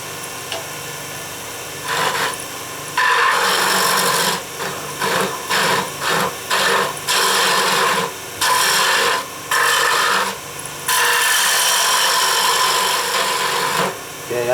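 A wood lathe tool cuts into spinning oak, giving rasping, scraping bursts in an irregular stop-start rhythm, close and fairly loud, with occasional quiet gaps between passes.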